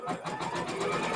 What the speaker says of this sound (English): Now we're going to do machine step 2, and that is to stitch this down or tack it down.